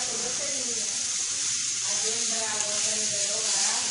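Skirt steaks for churrasco sizzling on a grill just after flipping, a steady hissing crackle that holds even and continuous throughout.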